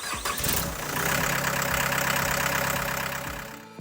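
The 69-horsepower diesel engine of a Mule 9069 shed mover starts with a short crank, then settles into a loud, close, rumbling idle with steady low knocking pulses before cutting off.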